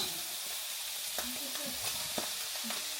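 Cabbage and mung bean sprouts stir-frying in a pan give a soft continuous sizzle with occasional spatula scrapes and taps, close but fairly quiet, without talk.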